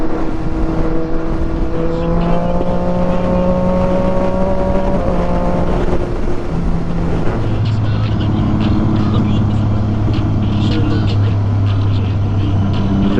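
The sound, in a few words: sport motorcycle riding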